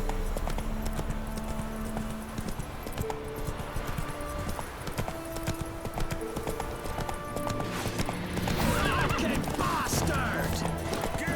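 A horse gallops in The Witcher 3 with a steady, rapid clip-clop of hooves, loud and close, alongside a dense game soundscape of music and voices.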